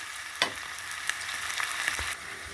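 Food fries in a pan with salt, turmeric and chili powder added, a steady close sizzle with occasional stirring scrapes and no talking.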